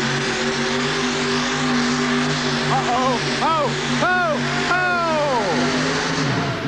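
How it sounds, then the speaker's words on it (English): A truck-pull engine at a 1989 USHRA event in Worcester roars at wide-open throttle, a loud sustained drone with rising and falling revs as the pull goes on, under a commentator's voice. "as soon as you trip the throttle, as soon as you give it, you need to go wide open with it"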